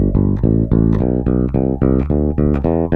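An Epiphone Toby Deluxe V electric bass played with the bridge pickup blended with some neck gives a run of punchy, evenly paced plucked notes, close and clear with no talking.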